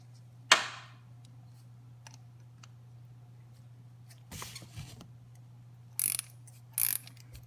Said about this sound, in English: Now we can easily use the ratchet to get everything off, to get the spark plug off